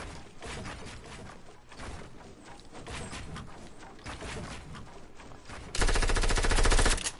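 Rapid gunfire in the Fortnite battle royale video game, dense bursts of automatic shots rattling continuously, ending in a louder, harsher sustained blast of fire.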